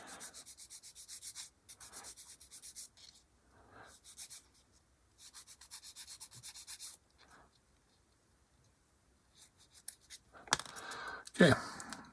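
Small parts of a 1/48 HK Models B-25J bomber model sanded by hand in quick, close, rasping strokes in bursts, with a few plastic clicks and handling noises at the end.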